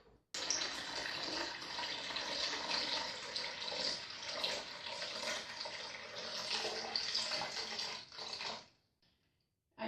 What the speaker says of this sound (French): Là, je verse mon eau.